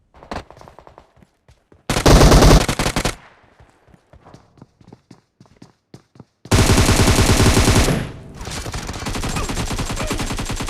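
Gunfire in the mobile shooter BGMI fired from the hip without a scope: scattered single shots, then two loud sustained automatic bursts, the second trailing into continued rapid fire, all close and dominant.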